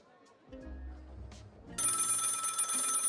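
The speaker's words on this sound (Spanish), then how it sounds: "Suena el teléfono." Telephone ringing in the video game Lil' Guardsman, starting abruptly partway through as a loud, sustained electronic ring after quieter low game sounds and a brief murmur.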